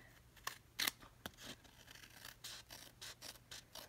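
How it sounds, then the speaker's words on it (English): Scissors snip paper in short, quiet cuts, a few sharp slices followed by a quick run of small trimming snips, close to the listener. "we're going to come up to the top with our scissors and just trim this off"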